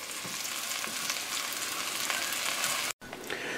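Mole sauce ingredients stir-fried in a hot pan give a steady, loud sizzle with scraping stir strokes running throughout, broken by one brief dropout near the end.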